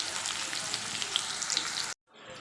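Cauliflower and potato fry in oil with turmeric and salt, giving a continuous close hiss and sizzle that cuts off sharply, then a fainter sizzle returns.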